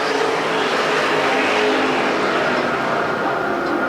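Super stock race cars roaring around the track at Perris Auto Speedway, a loud continuous blend of engines holding steady throughout.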